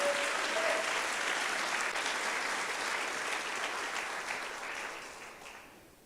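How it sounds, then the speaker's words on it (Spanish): A church congregation applauds, a dense, steady wash of many hands clapping together that holds for several seconds and then tapers off. "Dele una ofrenda de palmas al Rey de Reyes"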